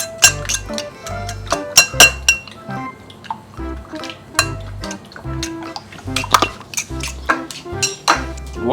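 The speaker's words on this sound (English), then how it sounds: "Whisk it. Whisk it nicely." Eggs being whisked in a bowl for French toast, giving irregular clinks and taps of utensil against dish with wet sloshing between, close and fairly loud with no talking.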